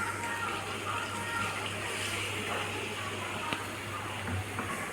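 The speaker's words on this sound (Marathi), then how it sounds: "याच्यामध्ये आता आपण गरम पाणी ॲड करून घेऊया गरजेनुसार." Hot water being added to a cauliflower curry simmering in oil in a kadhai, a steady quiet gushing pour over a low background hum.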